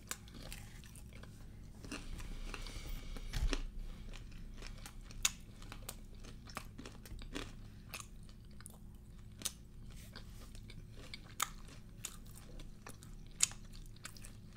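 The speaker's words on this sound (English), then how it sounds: "why am I chewing it so hard?" Close, loud crunching and chewing on a crispy Nashville hot chicken finger, with sharp bite clicks scattered through steady mastication noise and no talking.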